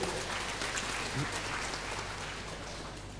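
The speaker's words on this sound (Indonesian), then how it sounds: "Saya mohon tepuk tangan untuk Yayasan Buntek Bio" Applause for a foundation at a university graduation ceremony, a broad, even patter of many hands clapping across a large hall, with a faint steady hum beneath it.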